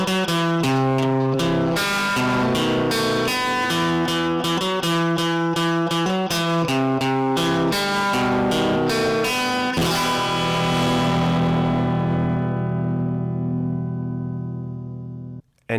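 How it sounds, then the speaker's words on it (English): A Chase Bliss Clean compressor pedal in Dusty mode gives a guitar a fuzzy, overdriven distortion, played as steady rhythmic chords for about ten seconds before one last chord rings out and slowly fades. "Dusty turns Clean into a sort of fuzzy overdrive pedal with a really distinctive sound"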